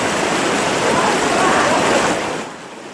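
Floodwater from the overflowing Wulan River and breached embankments in Demak, Central Java, rushing loudly in a broad, constant roar that eases off slightly near the end.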